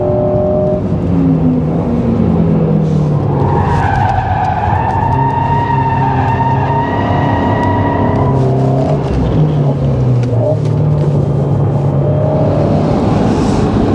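An Alpine A110 S from 2022 is driven hard with ESP in Track mode, engine revving up and down in sweeping tones while tires squeal and skid loudly across the whole stretch.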